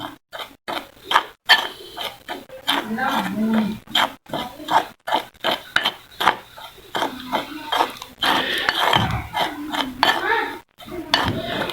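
Materials and sugar are mixed in a cup with rapid, continuous clinking and scraping of a utensil against the container, loud and close with a steady busy rhythm, no talking.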